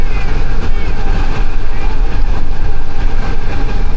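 The Green Line Express, hauled by locomotive GU 49004, runs at speed with a loud, dense, continuous rumble and rattle of rail travel heard from on board.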